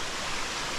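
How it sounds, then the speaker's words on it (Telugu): Waterfall pouring down into a valley, a steady broadband rush of falling water that stays constant and fairly loud for the whole moment, with no voices over it. "చూడండి వాటర్ ఫాల్"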